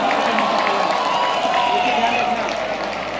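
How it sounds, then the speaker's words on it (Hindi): An audience at a school of management sciences foundation day celebration in Varanasi claps loudly and continuously, a thick wash of applause with some cheering mixed in. "तो बहुत जोर से तालियां हो जाएं"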